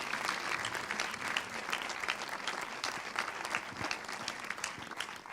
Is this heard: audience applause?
yes